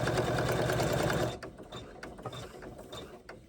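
Embroidery sewing machine stitching a zipper placket in the hoop, a loud steady mechanical whir and rapid needle chatter that suddenly slows and quiets to sparse clicks as it prepares to stop.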